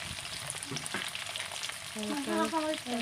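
Chopped onions frying quietly in a pan while being slowly stirred, a soft sizzle with occasional light scrapes, and a brief tonal sound near the end.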